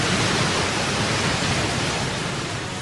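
Roaring tidal bore of the Qiantang River, a dense, constant wall of crashing water noise, loud and unbroken throughout.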